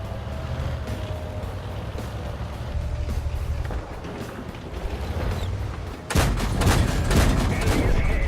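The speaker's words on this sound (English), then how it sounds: "the TD followed me and takes a shot at me and misses" A tank destroyer's cannon fires in World of Tanks, a sudden loud boom about six seconds in that breaks into dense crackling blasts, over a steady low engine rumble and battle noise.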